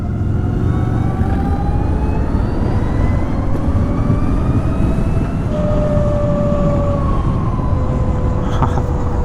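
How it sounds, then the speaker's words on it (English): A LiveWire ONE electric motorcycle slowing under heavy regenerative deceleration, thin electric whines that shift in pitch and fade in and out over a loud, constant rush of wind and road noise. "Okay, so you hear that? Yeah, that heavy deceleration."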